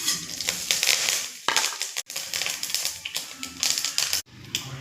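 Fenugreek, fennel, mustard seeds and curry leaves dropped into hot sesame oil for a fish curry, a loud, close, continuous crackling sizzle with popping bursts and two brief sharp breaks.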